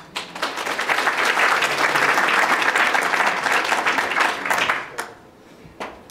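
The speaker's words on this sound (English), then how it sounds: "I do want you to clap for this as well" A crowd at a Chicago public health talk bursts into applause, building quickly to a loud, dense roar of clapping that holds for several seconds before fading out to scattered last claps.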